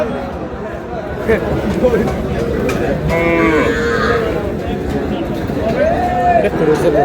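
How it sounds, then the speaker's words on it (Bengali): Sahiwal cattle at a farm in Meherpur moo several times in long, drawn-out calls, close and loud, over steady background noise while people talk nearby. "একটু গরুগুলো আমরা দেখি, চলেন"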